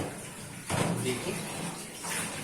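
Water runs and splashes while a pressure cooker is washed in a kitchen after cooking beef trotters, a steady broadband wash that swells louder midway and continues to the end; speech-like sounds appear faintly.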